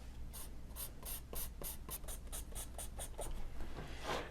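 A charcoal pencil cross-hatches on paper in a quick series of about a dozen short, evenly spaced scratchy strokes, close and alone.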